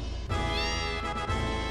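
A cat meows loudly and clearly in the video game Final Fantasy VII (New Threat mod), one drawn-out, wavering cry heard alone.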